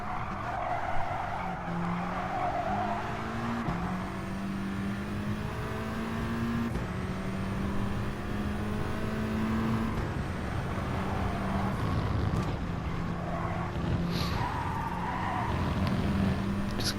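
Scirocco race car in a racing video game lapping a tight, twisty track: a steady engine drone rising and falling through the corners, with tire squeal and skidding running throughout, close and loud with no talk.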